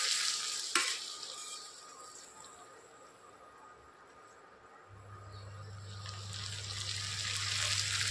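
Spices being fried dry in a pan for a Bengali banana flower and prawn dish (mocha chingri), giving a steady soft sizzle with light stirring scrapes and a low hum joining partway through.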